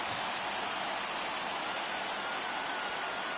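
Steady, dense rain falling throughout a baseball video game, a constant wash of hiss with no breaks and no audible voices.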